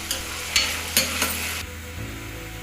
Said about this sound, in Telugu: ఇప్పుడు ఆనియన్స్ గోల్డెన్ కలర్లోకి వచ్చేంత వరకు అలా తిప్పుకుందాం